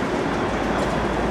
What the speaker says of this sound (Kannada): ಒಂದು ಟ್ರೈನು ಬರ್ತಾ ಇದೆ ಪ್ಲ್ಯಾಟ್ಫಾರ್ಮ್ಗೆ